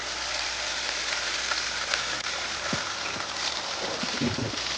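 Fish frying in hot oil for a spicy fish fry: a steady broadband sizzle with occasional soft clinks and stirring taps, close and continuous.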